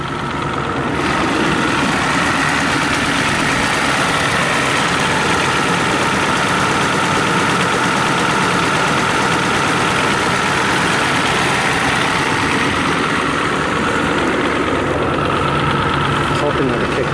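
An old, dented and rusty vehicle runs at idle, a loud, steady, rough engine drone with low vibration throughout, while someone talks over it.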